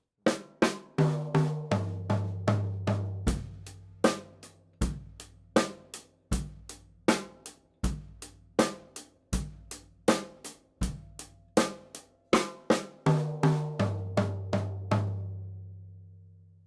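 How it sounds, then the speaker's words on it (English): A drum kit plays a steady beat with kick and snare hits, breaking into a quick fill before the groove resumes and rings out. "do your fill and then try to start that beat again without any break or hesitation"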